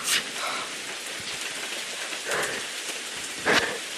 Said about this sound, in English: we're off the path and in a storm